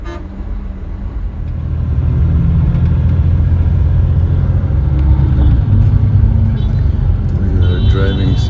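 A bus rolls along a night highway from Luxor to Cairo, its engine and road rumble swelling after a couple of seconds into a loud steady drone, with horns tooting from nearby traffic.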